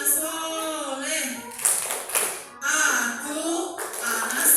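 Young children chant the rhythmic 'tepuk anak soleh' clap song in a classroom, voices singing over quick patterned hand claps in short bursts.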